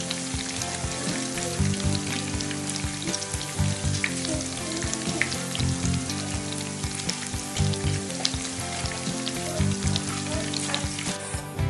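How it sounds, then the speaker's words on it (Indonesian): Cireng, Bandung tapioca snacks, fry in oil over medium heat, giving a close, dense, continuous sizzle with crackling pops throughout and no talking. "kita goreng cireng menggunakan api yang sedang,"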